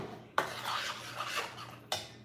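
Stirring food in a pot, two sharp metallic scrapes against the pot's side with a softer rubbing, shuffling stir between them, close and fairly quiet.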